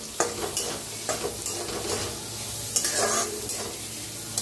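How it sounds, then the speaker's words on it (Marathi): Chopped onion sizzling in hot oil with toasted cumin seeds while a spoon stirs the pan in steady strokes, with a few scraping knocks against the metal; close and continuous, no talking. "1 चमचाभर जिरं चांगलं भाजले ते त्याच्यात टाकूया कांदा, हलवून घेऊया"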